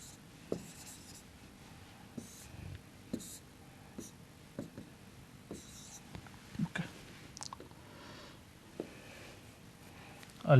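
Chalk or marker scratches and taps on a board during an engineering lecture on construction management, coming in short irregular strokes with pauses between them, close and moderately quiet.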